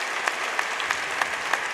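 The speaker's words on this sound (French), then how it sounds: "On va applaudir cet homme" Audience at a paleta cuir pelota semifinal between France and Argentina applauding in tribute, a steady, moderately distant patter of many hands clapping with a few sharper claps standing out.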